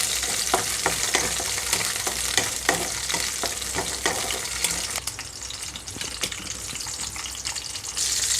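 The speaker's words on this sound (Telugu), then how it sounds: "ముందుగా ఇక్కడ నేను పచ్చిమిరపకాయలు వేసి వేయించుకుంటున్నాను." Green chillies fry in hot oil for an okra chutney, giving a steady, close sizzle with stirring clicks and spoon taps throughout and no talking.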